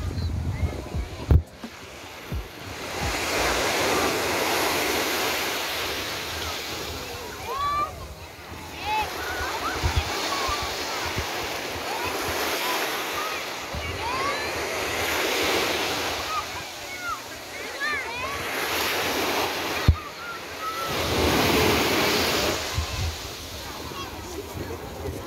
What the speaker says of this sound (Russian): Сегодня очень так облачно и ветер дует, поэтому сильные волны